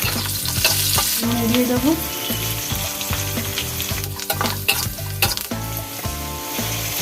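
Curry leaves dropped into hot oil with lightly fried potatoes and onions give a loud, steady close-up sizzle with crackling bursts and occasional stirring scrapes throughout.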